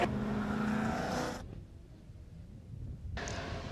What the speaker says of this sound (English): I think your car's running.